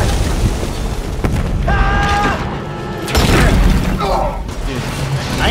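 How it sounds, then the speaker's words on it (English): A heavy explosion booms in the sci-fi horror game Dead Space 3, with mechanical creaks, metallic rumbling and crashing debris filling the scene, loud and close. "Oh, is it the explosion? It was the explosion."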